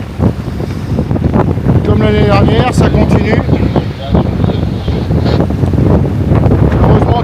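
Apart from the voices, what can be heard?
strong wind gusts at sea, wind noise on microphone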